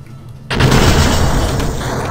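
A grenade explodes in the video game Superfighters: a sudden loud boom after half a second of quiet, followed by a sustained rumbling roar that slowly fades.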